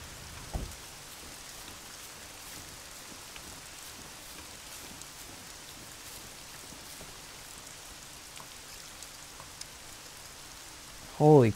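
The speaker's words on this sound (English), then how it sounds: "Holy cow, that rain is loud." Steady, even rain hisses continuously at a low level, with a brief low thump near the start and a louder bump right at the end.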